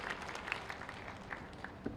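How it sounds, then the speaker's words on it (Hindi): Faint, scattered applause from an audience at a BJP political party membership event in Madhya Pradesh, soft and distant, with a few sharper individual claps standing out. "यशस्वी प्रभारी जी के लिए भी जोरदार तालियां"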